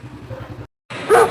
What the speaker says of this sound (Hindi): ये देखो ये कुत्ता कैसे भौंक रहा है।